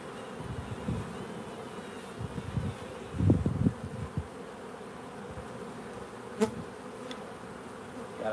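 Honeybees hum steadily around an open beehive during an inspection, a soft continuous drone with louder passes as individual bees fly close, plus a couple of sharp clicks.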